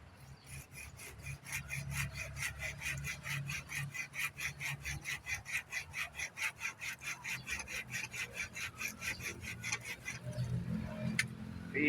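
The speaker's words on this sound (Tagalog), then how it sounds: "Lalagarin natin dito sa puno." A hand saw cuts through a large bougainvillea branch in steady, rasping back-and-forth strokes, close and even in rhythm, slowing and ending with a few scrapes near the finish.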